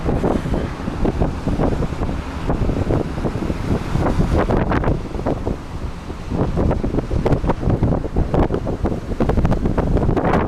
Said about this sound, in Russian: Очень сильный ветер.